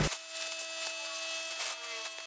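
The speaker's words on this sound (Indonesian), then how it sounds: "Kita amplas semuanya sampai halus" Wood sanded with 180-grit sandpaper while preparing for a clear PU gloss finish, giving a steady, continuous rasping hiss with a faint tonal whine that holds evenly for about two seconds, with no talking.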